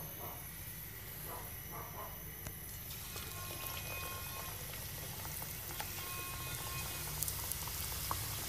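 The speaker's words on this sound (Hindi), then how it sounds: "अब इनको हम फ्राई करते हैं।" Samosas deep fry on a low flame, the oil giving a soft, steady bubbling fizz that stays faint and continuous throughout.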